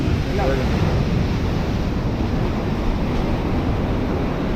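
Sea waves roar continuously, a broad wash of surf with wind buffeting the microphone and no distinct breaks.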